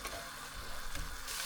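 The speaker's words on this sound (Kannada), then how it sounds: "ಇವಾಗ ಚೆನ್ನಾಗಿ ಫ್ರೈ ಮಾಡಿ" Spices frying in oil for idly sambar, a soft steady sizzle with light crackling close by, faint overall, with no talking.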